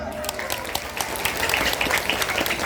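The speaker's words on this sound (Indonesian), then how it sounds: "Tepuk tangan dong." Large crowd at an Islamic tabligh akbar religious gathering claps together, a bright crackling wash of many hands that swells slightly and carries on steadily, with some voices mixed in.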